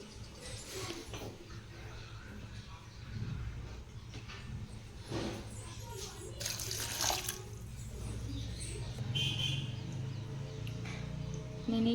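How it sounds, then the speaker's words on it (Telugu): Water is poured from a cup onto jaggery in a pan to make syrup. It sounds as a soft, quiet trickle and splash, with faint scraping and clinks, and no talk over it. "కొంచెం వాటర్ అయితే యాడ్ చేసుకోవాలి."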